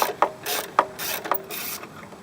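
A 5/16 socket wrench ratchets on a rusted top bolt of a driver's-side fog light on a Mazda B3000. It gives three sharp metallic clicks spaced about half a second apart over a steady grinding rasp, close and fairly quiet.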